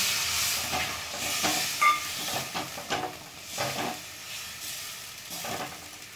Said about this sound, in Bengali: এবার আমি একটু জল দিচ্ছি।